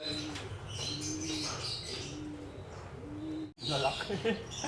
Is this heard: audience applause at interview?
no